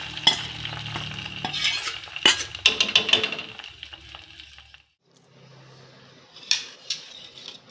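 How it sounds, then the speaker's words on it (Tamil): Spices tempering in hot oil for a South Indian urad dal kuzhambu, with bursts of sizzling and crackling, metallic clinks and stirring scrapes of a spoon in the pan, a brief quiet gap, then more sizzle and clatter. "இப்போ நம்மளோட உளுந்தம்பருப்பு குழம்ப தாளிச்சுக்கலாம்."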